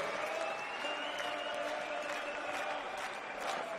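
Audience applause for darts player Carsten Koch at a European Darts Matchplay event, a steady, moderately distant wash of clapping from a large crowd sustained without pause.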